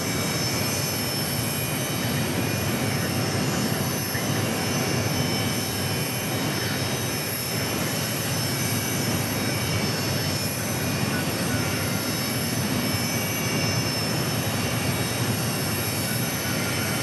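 A FedEx Boeing 767 freighter jet roars at Phoenix Sky Harbor airport, a loud, steady broadband engine rumble and hiss that holds without pause throughout.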